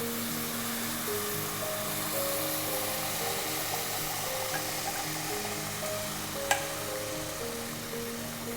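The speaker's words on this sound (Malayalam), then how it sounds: "വെള്ളം മുഴുവനും വറ്റുന്നതുവരെ ഇതുപോലെ ഇളക്കുക." Chocolate sheera mixture with sugar and strained chocolate liquid is stirred in a pan while it cooks down, a steady low sizzle and bubbling continuing throughout, with one brief sharp clink of the utensil near the end.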